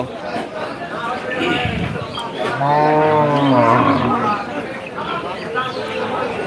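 A cow moos with a long, drawn-out call that swells and fades amid the crowd noise of a large Bangladeshi cattle market, while people talk throughout.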